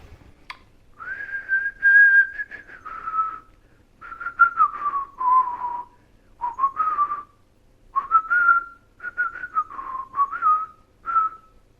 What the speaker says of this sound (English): I haven't whistled this in like 30 years, but I think it goes something like